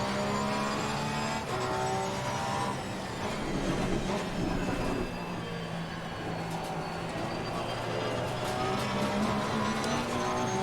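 Porsche 911 GT3R race car engines in a wet Brands Hatch sim race, a dense continuous roar of several cars with shifting pitch lines, steady and loud throughout.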